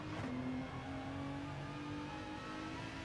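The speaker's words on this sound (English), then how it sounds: "upshift to third real quick" A Saleen S7R race car in a racing video game at the Nürburgring 24 Hours, its engine droning steadily and loud up close as it shifts up into third, with no other sound.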